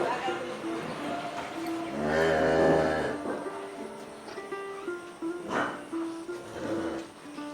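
A Friesian cow gives one long, loud moo nearby, followed by shorter lowing calls, with faint background voices and farmyard noise.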